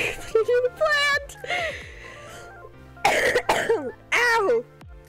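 A young person playing a Minecraft-style survival game coughs and clears their throat in short, loud, close bursts, mixed with squeaky vocal exclamations and gasps over soft background game music.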